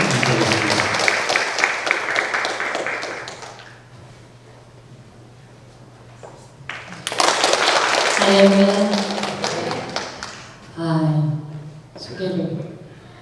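Church congregation applauding to welcome worship singers to the front, a dense patter of clapping for the first few seconds that fades, then talk resumes with a voice speaking over the room.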